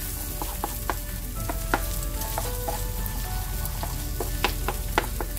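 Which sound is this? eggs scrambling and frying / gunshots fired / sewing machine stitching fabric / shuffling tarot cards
eggs scrambling and frying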